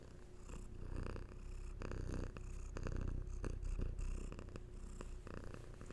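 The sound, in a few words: cat purring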